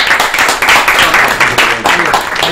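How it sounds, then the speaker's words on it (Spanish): A television night show audience breaks into dense, sustained applause, loud and close, with brief surges and a voice faintly underneath. "Un aplauso para"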